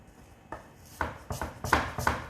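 Onion being chopped on a cutting board for a salad, a run of sharp knife strikes that start sparse and quicken into several crisp, close cuts.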